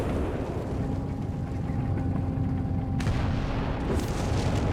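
Howitzer artillery fire in the strategy game Company of Heroes 3 sounds as deep, rumbling booms over a continuous low battlefield roar, with a sharp report near the middle and a further blast after it.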